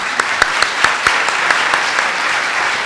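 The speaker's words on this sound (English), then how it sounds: "Join me in applauding the panel." An audience applauds a panel at the close of a sport and exercise psychology session, a steady, full wash of clapping, loud and close, with a few sharper individual claps standing out.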